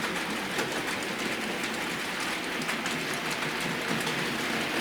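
A Hornby Duchess of Rutland model locomotive, twenty years old, hauls a heavy freight train, giving a steady, continuous hiss and fine clattering rumble that stays at an even level throughout with no talk.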